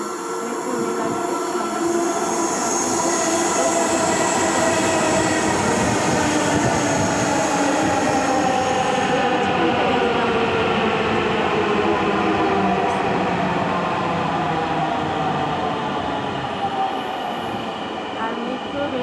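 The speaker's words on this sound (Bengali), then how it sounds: "তো 5 মিনিট পর পর যেহেতু মেট্রো রেল আসবে" A Dhaka metro train rolls into a station, bound for Motijheel: loud, steady rumble of wheels on rails with rising and falling whine, and a faint squeal as it slows.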